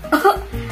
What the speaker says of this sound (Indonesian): Kalian kalau sedang bersin dan batuk seperti apa ya?